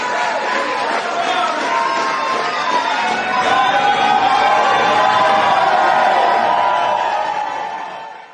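A large rally crowd cheers and whoops at full volume, a dense wall of shouting voices that swells midway and then tapers off at the end.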